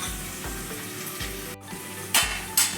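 Mutton curry sizzles steadily in a pan over a gas flame while a spoon stirs it, with a few scraping strokes and clanks against the pan, close and continuous.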